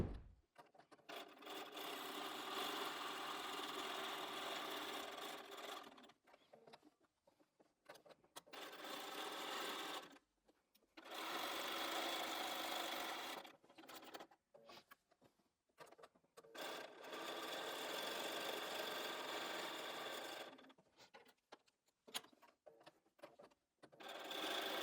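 Sewing machine stitching quilt squares for a layer cake churn dash quilt, running a scant quarter-inch seam along diagonal lines; three long steady bursts of machine whirring separated by short pauses, close and alone.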